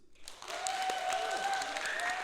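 Cheering and clapping from a community show audience for Chip and Spooks, a steady burst of applause with whoops and a sustained whistle or shout running across it, fairly close and lively.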